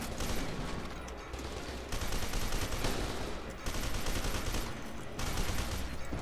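Sustained, dense gunfire from the video game F.E.A.R. 2, rapid automatic bursts filling the whole stretch with only brief breaks between volleys, loud and close.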